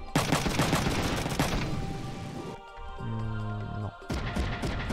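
Mech gunfire in the PlayStation game Front Mission 3: dense, loud rapid bursts crackle steadily for over two seconds, break off into a lull with low tonal rumbling, then return at the end.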